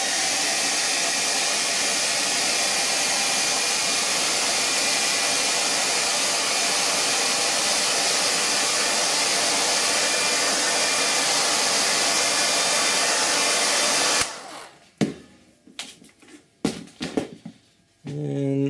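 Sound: blow dryer drying paint

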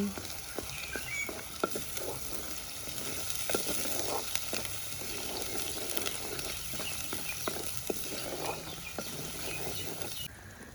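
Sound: stirring chili powder into frying pan

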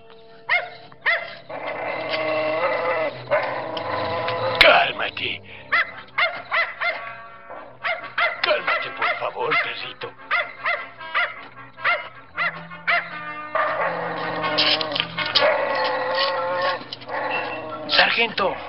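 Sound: dog barking

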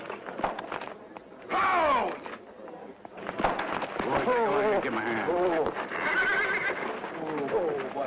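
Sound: horse neighing

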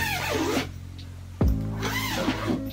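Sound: zipper of a fabric shoe cabinet pulled down

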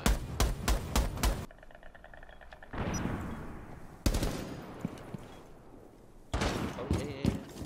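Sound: gunfire in video game Rainbow Six Siege

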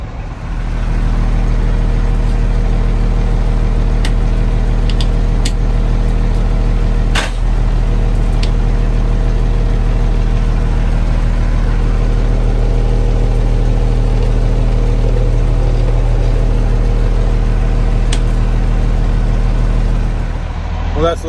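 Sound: International dump truck diesel engine running after 15 years

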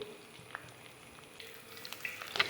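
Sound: ribbon pakkavada deep frying and crackling in oil

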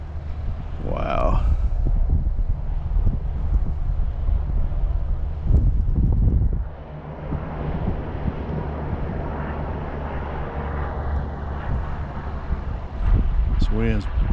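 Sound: strong wind blowing during RC car speed run

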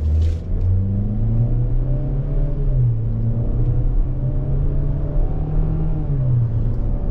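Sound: SUV engine humming while accelerating

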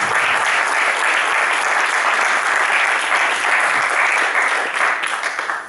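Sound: audience applause at press conference

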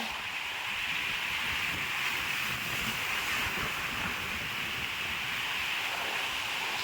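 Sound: big Pacific Ocean waves

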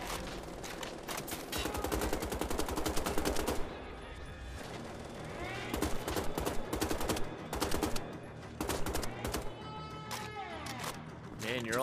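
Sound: dual-wielded pistols firing, video game The Old Blood

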